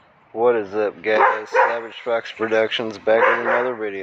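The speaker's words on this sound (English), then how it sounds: "Sorry about my dog in the background." A dog barks and yips in the background, mixed under a man's close, continuous talk.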